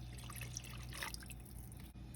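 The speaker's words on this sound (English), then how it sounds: "I'm adding in 4 more cups of water." Water pours steadily into a pot of beans with ham hocks, a soft continuous trickle and splash, close but faint.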